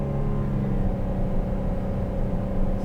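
A 2020 Buick Enclave engine runs steadily just after a shift into third gear, a moderate continuous drone with a low rumble and faint whir, heard from inside the cabin.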